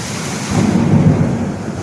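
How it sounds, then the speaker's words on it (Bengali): Heavy downpour with a low rolling rumble of thunder, a dense roar of rain that swells briefly and stays loud and close. "দেখো, আমাদের এখানে ভীষণ বিদ্যুৎ চমকাচ্ছে, আর তার মধ্যে বৃষ্টি হচ্ছে। দেখো, মুষলধারে বৃষ্টি হচ্ছে।"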